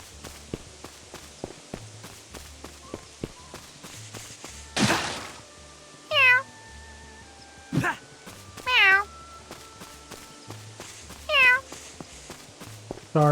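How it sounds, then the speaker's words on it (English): Several short cat meows from the game Adventure of Elliot, a bit synthetic-sounding, repeat among soft footstep thuds and light clicks, with a thump near the start. "that meow sounds fake."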